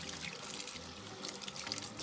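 Water runs steadily from a kitchen tap while something is rinsed off during the making of deviled eggs, a soft continuous pouring trickle close by.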